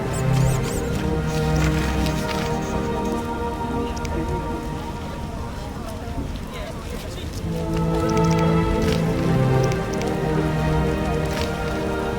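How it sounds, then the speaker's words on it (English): Heavy rain pours down in the video game The Witcher, a dense, continuous hiss of drops on surfaces. Tonal voices or music sound faintly over the downpour. "A real downpour."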